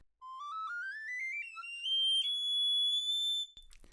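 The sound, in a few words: garklein recorder playing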